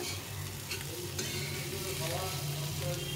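A flatbread frying in a pan, producing a dense, even sizzle that runs without pause at low volume, with a faint scrape or two as it is turned.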